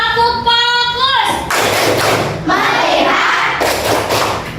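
Pupils in a classroom do a rhythmic focus clap, a sung or chanted voice at the start followed by bursts of loud group clapping and thuds, close and lively.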